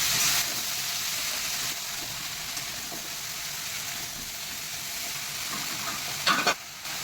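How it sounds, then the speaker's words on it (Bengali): Chingri shaak greens stirred over spices in a hot pan for a prawn chochchori, giving a steady, close sizzle with scraping stir strokes and a brief louder clatter near the end, no talking. "এই শাকগুলো এবারে মশলার উপরে দিয়ে একটু কষিয়ে জল ঢেলে দেবো"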